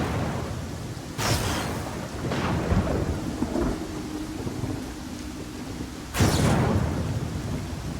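Thunder and steady rain from a storm in the video game Pathfinder Kingmaker, with two sharp, loud cracks of thunder and rolling rumbles between them over a constant wash of rainfall.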